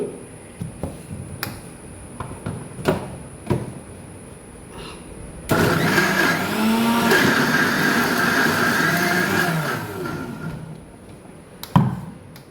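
A mixer grinder whirs loudly and steadily for about five seconds as it grinds gongura leaves for pachadi in a Kerala home kitchen, preceded and followed by scattered knocks and taps of the jar.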